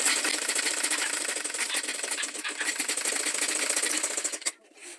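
A sewing machine stitches a handmade tote gift bag in a close, steady, rapid mechanical whir that runs for about four and a half seconds before stopping abruptly, leaving near silence.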